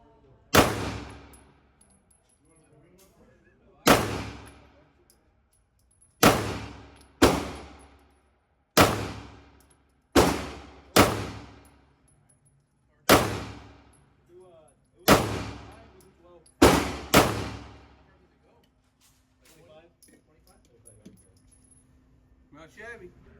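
A Springfield Armory Garrison 1911 pistol fires about eleven loud, sharp shots at uneven intervals, some in quick pairs, each cracking and ringing off into quiet gaps.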